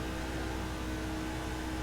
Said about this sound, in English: Does the car sound bad?